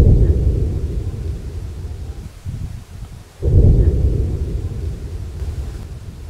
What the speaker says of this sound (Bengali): দূরে মেঘ ডাকছে